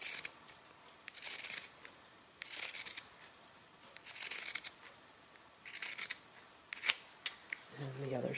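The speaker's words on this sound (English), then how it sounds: "Okay, so I'm trimming around." Scissors trim around a machine-embroidered in-the-hoop Post-it note design through thick layers of fabric, giving a series of crisp close snips in irregular bursts with quiet pauses between them.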